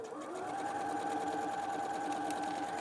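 Sewing machine running steadily, a loud close mechanical whir with an even rapid stitching pulse and no pauses.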